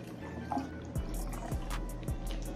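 Cold bottled water pours and drips into a blender cup for a banana smoothie, a soft continuous trickle broken by a few distinct drips, close and fairly quiet, with no voices.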